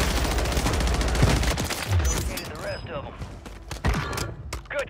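Rapid automatic gunfire in the video game Warzone crackles in loud, dense bursts through the first half, then tapers into scattered shots, with a voice talking over the action.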